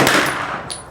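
A 9mm carbine, either a Foxtrot AR9 or a Kalashnikov KP 9, fires at an outdoor range at 50 yards, a single loud close report that quickly fades.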